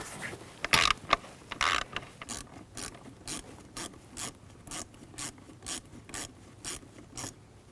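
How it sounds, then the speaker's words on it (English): A 7mm socket on a ratchet loosens a hose clamp in the engine bay of a 2001-2009 Volvo S60 during spark plug replacement: a few scraping clicks, then a regular run of short ratcheting bursts close up, with no voices. "Loosen up that clamp."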